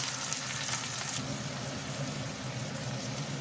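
Vegetable flowers sizzle and fry in hot oil in a pan after onions and green chillies were fried, a steady, close, dense crackle filling the whole stretch with no voices.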